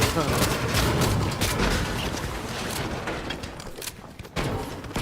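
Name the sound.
sniper gunfire in a video game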